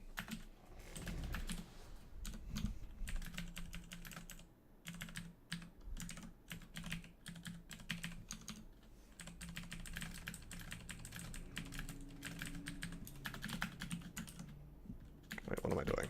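Computer keyboard pressed rapidly while playing Dungeon Crawl Stone Soup, dense continuous clattering keystrokes close to the microphone with occasional brief pauses, and a voice talking quietly underneath.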